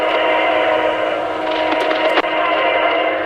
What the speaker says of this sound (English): Hearing that horn blowing loud in the background tells me it could be a standard cab leading